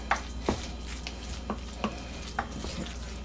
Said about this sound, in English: Add in a little bit, and I'm going to stir it in.